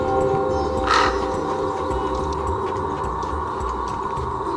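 A single loud, harsh crow caw rings out near the start above a steady roar of high wind through tall trees in a wooded quarry. The wind noise continues alone afterward, with no voices.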